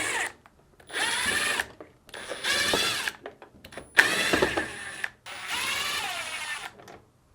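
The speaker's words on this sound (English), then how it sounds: "To remove the back cover, we'll start by removing the 6 Phillips screws." A power screwdriver backs out Phillips screws from the rear cover of a Samsung washing machine, four separate whirring runs each lasting about a second, separated by short pauses, close and loud.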